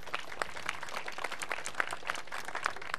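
A crowd claps at a groundbreaking ceremony, a short burst of scattered hand claps with a few sharper individual claps standing out over a steady patter.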